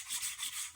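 Engine valves for a six-cycle engine are lapped by spinning them against their seats, giving a steady gritty rubbing hiss up close with slight rhythmic swells.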